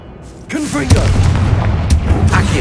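A Confringo fire spell bursts in Hogwarts Legacy, a sharp booming blast with a rumbling roll after it; a short voice is heard just before the impact.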